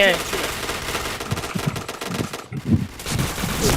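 Rapid bursts of automatic gunfire sound in the online shooter Point Blank, a dense, loud crackle with short pauses. A game announcer voice and other sounds come in over the shooting.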